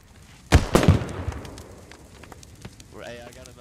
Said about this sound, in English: Phoenix gonna throw a nade in here and might catch Scottish outside.